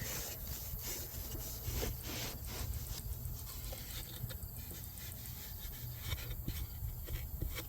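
A microfiber cloth rubbing oil into freshly routed wooden shelves, a continuous close scrubbing and rubbing with repeated back-and-forth strokes and no talking.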